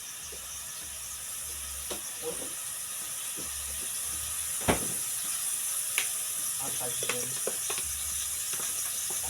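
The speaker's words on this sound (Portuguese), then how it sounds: "Aproveito o caldo da carne para ir fritando ela." A soft, steady sizzle of meat frying in oil, with occasional pops and utensil clicks and a faint murmur of voices in the background.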